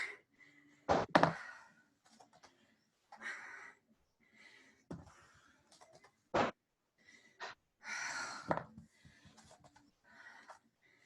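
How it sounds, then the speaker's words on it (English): Heavy, uneven breathing and panting from a person exercising through a leg workout, close to the microphone, with sharp gasps and exhales between quieter stretches. "I'm trying not to breathe heavy, I swear"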